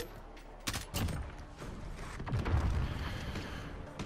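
Gunfire from a sniper in Call of Duty: Modern Warfare Spec Ops, with a few sharp shots near the start followed by rumbling battle noise and scattered impacts, all fairly loud and without voices.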